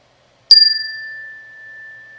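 A single meditation bell is struck once, ringing clear and bright, then sustains a long, pure, slowly fading tone that hangs alone in silence.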